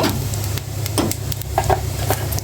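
Khichuri sizzling in a pan as cumin goes in, with crackling frying close by and brisk scraping stir strokes over it.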